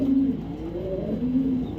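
Racer pigeons coo in low, rolling phrases, two clear bursts at the start and end with softer murmuring between, close and steady with no talking.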